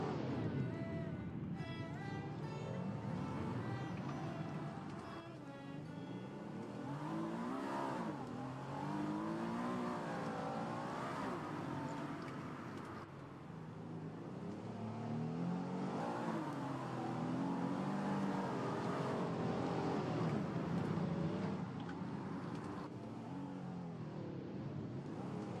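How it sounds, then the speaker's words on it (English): A car engine accelerating in a Roblox racing game, a steady revving whine that climbs and falls in pitch over a sustained stretch, fairly loud and continuous with no talk over it. "for an engine sound, they have just a clip of a car accelerating"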